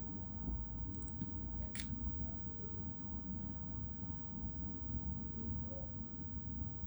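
Scissors snip earring material for a handmade boho earring, giving a few brief, faint cuts near the start over a low, steady background hum.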